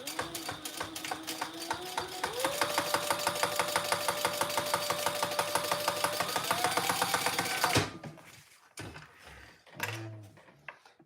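A domestic sewing machine runs steadily for about eight seconds, stitching a row of fabric with a fast even rhythm, then stops, leaving a few quiet handling knocks and bumps.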